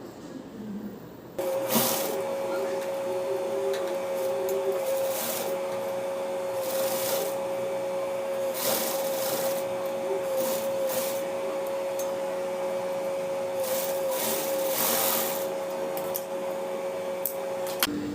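A sewing machine stitches the back seam of a T-shirt made from a converted chudidar, running as a steady whirring hum with a tonal whine after a brief start, interrupted by faint clicks; no talking.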